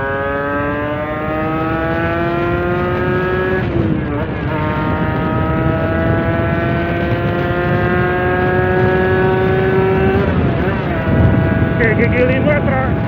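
A motorcycle fitted with a PWK 28 carburetor and Diablo Rosso Sport tires accelerates hard along a straight road, its engine whine climbing steadily through the gears with short dips at each shift, loud and close, while a rider talks over it.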